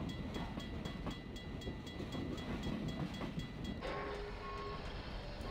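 A train in the video game Garry's Mod rumbles steadily with rhythmic clacking, a continuous faint rolling noise with a high tone entering near the end.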